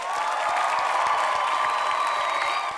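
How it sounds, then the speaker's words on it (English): Crowd applause at a football recap, a steady dense wash of clapping with light cheering that holds at even loudness from start to finish. "so let's clap it up for that"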